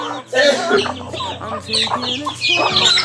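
Repeated clucking from a white chicken, close and fairly loud, broken into short bursts with a voice talking in between.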